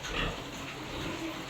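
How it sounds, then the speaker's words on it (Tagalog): Piglets crowd around a sow on a farm, giving soft, faint grunts and snuffling squeals over a steady low background, with no talking. "Ito po yung mga biik."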